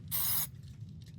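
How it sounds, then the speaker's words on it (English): Short hiss of degreaser spray on a chainsaw cylinder head, one burst lasting under half a second, close and fairly loud, then a quiet workshop background. "all you need, it's a little bit of a degreaser spray"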